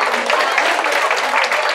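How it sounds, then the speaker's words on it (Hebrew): Brief burst of audience applause at a religious lecture, dense and fairly close, with voices mixed in. "מגיע לה כפיים, כן?"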